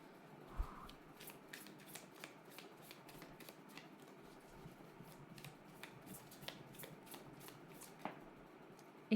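Playing cards are shuffled by hand in quiet surroundings, a soft run of rapid riffling flicks and taps that continues throughout at close range.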